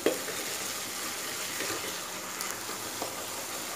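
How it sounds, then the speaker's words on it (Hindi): Ginger garlic paste fries in a pan with a steady, dense hiss and faint crackle throughout, close and even, with no voices. "इसको भी इसके साथ भून रहे हैं, इसकी भुनाई अच्छे से करेंगे ताकि इसका कच्चापन ख़त्म हो जाए।"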